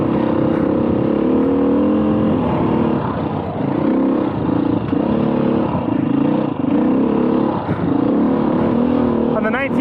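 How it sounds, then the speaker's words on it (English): A 2021 Beta 500 RRS dirt bike drones loud and steady while riding and engine braking, with a rough, pulsing engine note. A rider's voice runs over the engine throughout. "The engine braking feels a little bit more uniform."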